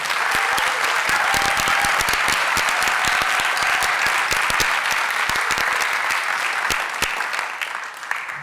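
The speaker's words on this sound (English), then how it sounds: "Let's all give a round of applause for the artists." An audience at an awards ceremony for artists claps steadily in a dense, continuous round of applause that tapers slightly near the end.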